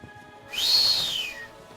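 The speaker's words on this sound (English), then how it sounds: "His whistle display shows he's eager." Male blue-footed booby giving a whistle display: one drawn-out, high whistle rising then slowly falling, close and clear with nothing else around it.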